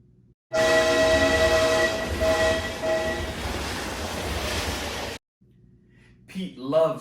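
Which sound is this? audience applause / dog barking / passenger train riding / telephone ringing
passenger train riding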